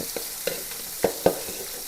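Short bursts of frying sizzle and spatter pop up four or five times against a quiet kitchen background, with no voices.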